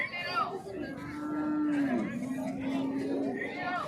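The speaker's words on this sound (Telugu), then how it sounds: "చిన్నది ఆవు" A cow at the Chintamani cattle market, where HF and Jersey cows are sold, lets out one long, loud, close moo, with crowd chatter and voices behind it.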